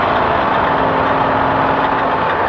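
A Mint 400 race vehicle's engine holds around 4,000 RPM, a loud, steady, dense drone heard from inside the vehicle with no break.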